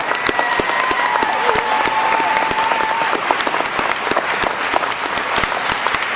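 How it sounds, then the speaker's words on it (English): A large graduation crowd at a Medora class ceremony applauds loudly and steadily, dense clapping with a few cheers and whistles rising above it throughout. "let's give our country a round of applause."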